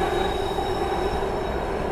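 Train running in the video game Here They Lie, a steady loud rumble of rolling wheels with a thin high metallic squeal over it, continuous throughout without speech.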